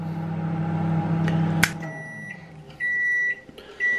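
Kitchen timer on a microwave oven emitting a few short electronic beeps after a low appliance hum, two sustained tones heard clearly near the end.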